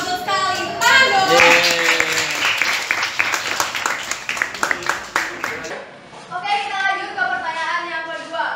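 An audience at a school quiz event claps loudly after a correct answer, dense applause that fades out partway through, while children and an adult speak over it and afterward.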